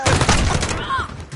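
Rapid gunfire in Call of Duty, a dense close burst of shots blended with a player's speech, fading in the last moments.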